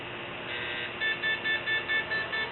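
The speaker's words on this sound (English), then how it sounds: "And we get a PETN alarm almost immediately" An explosives trace detector sounds a PETN alarm after analysing a swab taken from a door handle: a run of steady, evenly spaced electronic beeps, loud and close, with no voices.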